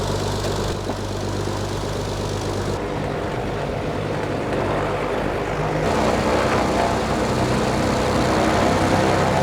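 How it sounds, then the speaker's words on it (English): A light airplane engine, long abandoned and just restarted, runs steadily at about 1,000 RPM with a constant propeller drone and idle hum, loud and close, its tone shifting slightly partway through, with no talking over it. "Everything's working so good, everything's fine, engine sounds good."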